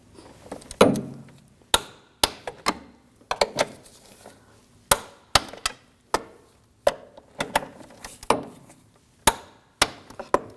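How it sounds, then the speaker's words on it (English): Torquing the control arm bolts on a 2006-2009 Audi S4 to 55 foot-pounds, with a series of sharp, loud metallic clicks and knocks spaced irregularly across the work, each followed by a short decay. "Now we're going to torque these bolts to 55 foot-pounds."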